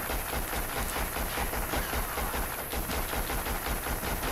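Rapid, continuous automatic gunfire in a first-person shooter video game, dense and loud, a sustained burst of submachine gun shots with no talking.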